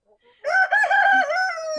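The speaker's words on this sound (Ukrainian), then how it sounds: "Півників в нас тут молоденьких багато, для того, щоб в нас був гарний припліт в інкубаторі." Young roosters on a Ukrainian village farm crow close and loud in one sustained, wavering cock-a-doodle-doo lasting over a second, with faint clucks just before it.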